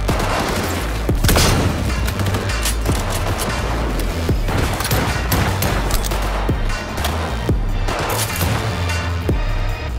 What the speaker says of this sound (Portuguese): Uma granada!